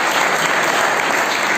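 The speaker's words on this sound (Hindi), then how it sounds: "ताली बजा करके इनका स्वागत करें।" An audience applauds steadily in welcome at a Jain religious discourse, a dense, loud wash of many hands clapping with no pauses throughout.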